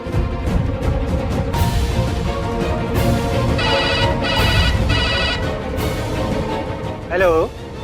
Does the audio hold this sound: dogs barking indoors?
no